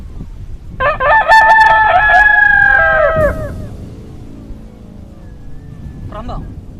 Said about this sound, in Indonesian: Kalian dengar ayam ini berkokok?